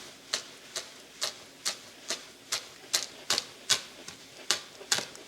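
Knife chopping fresh mint and basil leaves on a cutting board: about a dozen crisp, evenly spaced chops at a steady rhythm, close and moderately loud, with no talking.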